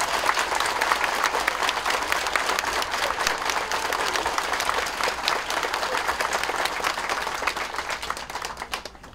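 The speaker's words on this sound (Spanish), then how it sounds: "¡Fuerte el aplauso para María!" A large crowd applauds at a Catholic church festival in Las Tortugas, Michoacán, loud sustained clapping with scattered sharp hand strikes, holding strong before thinning slightly at the end.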